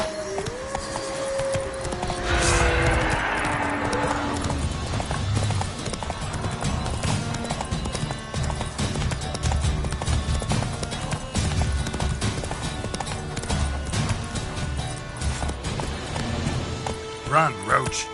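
A horse gallops at a quick rhythmic clip-clop in The Witcher 3: Wild Hunt on PS5, with a brief whinny near the start and hoofbeats running steadily throughout under game sound and a voice.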